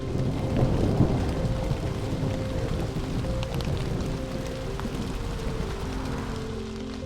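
Steady rain hisses close and constant while travelling by boat toward a small park through canals near a floating market, with a faint low hum running underneath throughout.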